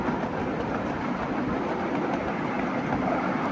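A train rumbles steadily along the rails, close and continuous, with a faint rhythmic clatter under the broadband roar.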